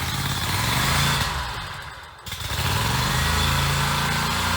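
A Scag mower engine runs loud and close, dips briefly as it stalls or cuts out, then picks back up into a steady high-pitched drone.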